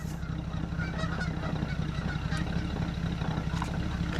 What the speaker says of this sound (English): Look, Canadian geese!